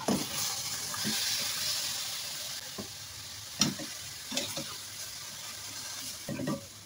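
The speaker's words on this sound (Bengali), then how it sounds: "শাকগুলো একটু নেড়ে চেড়ে মশলার গায়ের সাথে মিশিয়ে দেবো" Spinach is stirred into spice masala in a pan, with a continuous hiss of frying underneath and scattered scraping knocks from the stirring spoon at close range.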